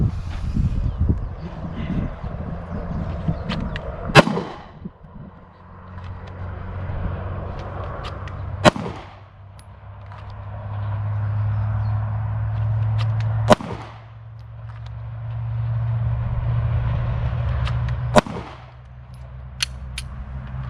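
Four separate pistol gunshots from a basic draw-from-concealment drill on a shooting range, loud sharp cracks spaced a few seconds apart, each followed by a brief pause and a low rumble in between.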